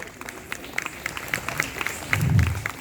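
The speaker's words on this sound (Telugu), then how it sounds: "మనం అందరం ఒకసారి చప్పట్లు కొట్టి మరి అభినందిస్తాం" An audience claps at a church Christmas program, scattered applause that swells louder near the end, heard from a moderate distance with some murmuring underneath.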